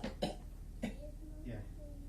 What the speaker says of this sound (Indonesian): Batukan Pak.